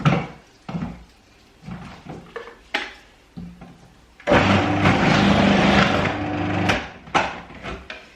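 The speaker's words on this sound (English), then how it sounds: "I'm just going to grate this." Vegetables for wild garlic and leek kimchi are grated, with scattered knocks and clatter followed by a loud, continuous grinding burst of a couple of seconds, then more intermittent knocking.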